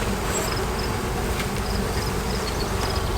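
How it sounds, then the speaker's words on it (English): Honey bees swarming around a hive frame during a beehive inspection, a dense continuous buzzing drone close by, with no voices. "Ooh, they're all over me now."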